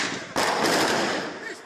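Automatic-weapon gunfire during a shooting attack on a beach, a loud sustained crackling burst that starts abruptly and rolls on with dense, rapid reports mixed with commotion.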